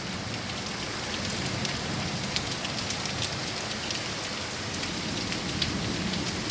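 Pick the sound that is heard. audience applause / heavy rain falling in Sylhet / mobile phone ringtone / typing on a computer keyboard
heavy rain falling in Sylhet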